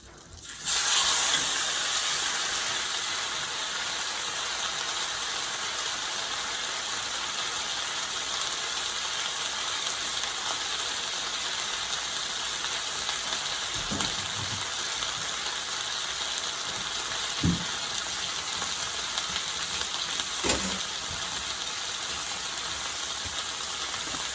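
A well-seasoned pot roast sears in a hot pan with a steady, loud sizzling hiss that starts abruptly and carries on evenly, with a few faint clicks and knocks.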